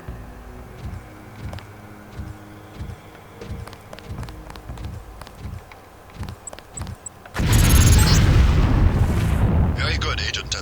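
Wall-placed mine in Deus Ex detonating with a sudden loud, deep blast that follows a run of light clicking footsteps and rolls on as a heavy rumbling roar; a voice speaks over the quieter lead-in.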